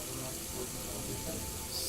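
Tap water running into a sink in the video game Deus Ex Mankind Divided, a continuous steady rush of water with no break.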